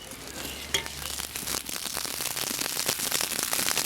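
Steak sizzling on a barbecue grill, a bright continuous hiss and crackle that grows denser over a few seconds, with sharp pops and a clank near the start.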